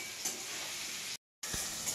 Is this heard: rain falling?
no